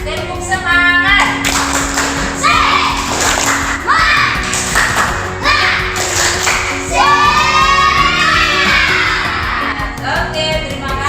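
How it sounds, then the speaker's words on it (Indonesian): A class of children claps a rhythmic spirit clap with a teacher, bursts of patterned clapping mixed with loud chanting and shouting voices, close and energetic throughout. "Kita tepuk semangat dulu ya. Tepuk semangat."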